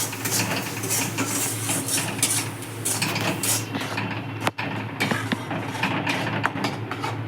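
A spoon stirs fish masala with chili powder in a pan, metal clinking and scraping close and continuously over a low steady hum, with one sharp knock midway.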